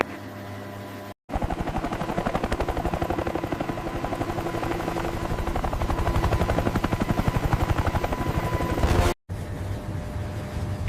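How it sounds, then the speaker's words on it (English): A Seahawk helicopter banks and flies low over open water, its rotor chop a loud, steady rhythmic thumping over a broad turbine roar, cut off abruptly at both ends. "the Seahawk banks hard left, dropping to 200 feet above the waterline"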